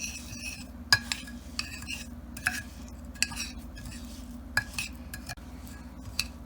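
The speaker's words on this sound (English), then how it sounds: "Now I will add the melted butter. Now I'm going to mix this." A spoon stirs crushed graham crackers into melted butter in a bowl, giving soft scraping and sparse, sharp clinks against the bowl at an irregular pace, quiet and close.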